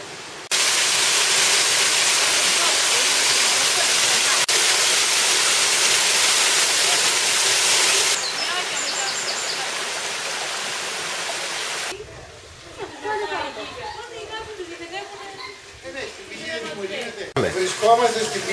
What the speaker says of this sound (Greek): Βρισκόμαστε στην πηγή Σάριζα.